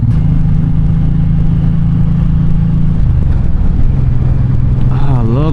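A Suzuki Boulevard M90 or M109R motorcycle engine runs while riding, giving a loud, continuous low rumble with wind noise and a slight shift in pitch partway through; a voice briefly sounds near the end.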